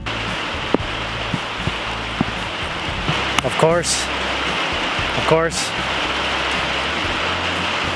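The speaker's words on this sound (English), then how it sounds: "Here comes the rain." Steady rain falls hard and continuously outdoors around a house under construction for gutters, a broad even hiss throughout with someone speaking briefly over it.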